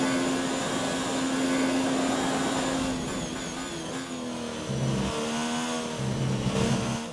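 Formula 1 car engine in the F1 2019 racing game at Spa, loud continuous high-pitched whine that climbs in pitch as the car re-accelerates out of a corner, with gear shifts marked by brief dips and rises.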